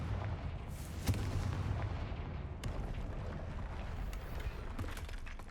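Confringo fire spell blasts in the Hogwarts Legacy video game, heard as loud rumbling explosive bursts, with sharp booms near one second and again later over a dense, continuous low roar of battle.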